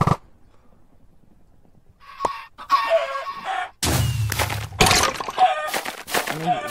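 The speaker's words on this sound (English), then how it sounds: "Oh, I hate the chickens." Chickens in the video game Minecraft cluck in short, scattered bursts among other blocky in-game sound effects, starting after a quiet opening and growing busier toward the end.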